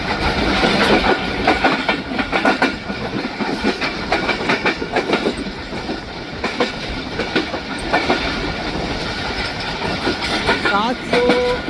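The Khyber Mail passenger train rolls steadily along the rails with a continuous clickety-clack of wheels over joints, close and sustained for several seconds, with a voice faintly audible in places.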